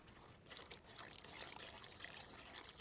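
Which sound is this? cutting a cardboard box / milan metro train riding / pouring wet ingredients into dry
pouring wet ingredients into dry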